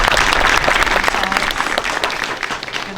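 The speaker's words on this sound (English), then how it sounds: "Oh, we got to clap for Alex." A school spring concert audience applauds, a dense, loud burst of clapping that slowly thins over three seconds.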